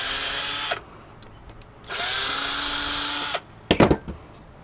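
A power drill runs in two bursts while backing screws out of an LED flood light, the second burst long and steady, followed by a few sharp clicks and knocks of parts being handled.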